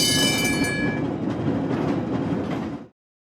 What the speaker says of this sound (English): streetcar,